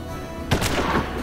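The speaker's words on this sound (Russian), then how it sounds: "А он с одного выстрела убил." A single gunshot from the Hard West video game cracks loud and close, a sharp broadband burst followed by a short rumbling tail over a steady low background.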